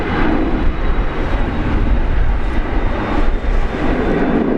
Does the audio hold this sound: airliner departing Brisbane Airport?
yes